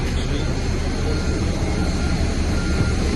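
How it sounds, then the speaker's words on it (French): A fixed-wing airplane on the tarmac gives a loud, steady roar of aircraft engines that fills the whole clip, with no talk heard. "on est carrément pour le coup dans l'avion. Voici l'avion que l'on prend."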